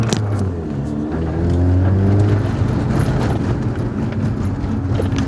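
A Saab 9-3 on the move, its engine droning loudly and steadily from inside the cabin, with the pitch rising and falling as the car accelerates and small rattles come through.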